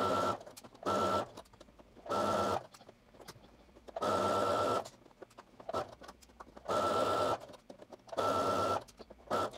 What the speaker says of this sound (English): So go ahead and sew across the top portion now.